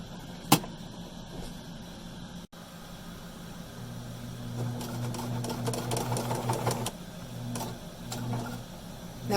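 A sewing machine stitches fabric for a homemade face mask, running in a steady mechanical whir for several seconds, stopping briefly and then starting again, close and moderately loud.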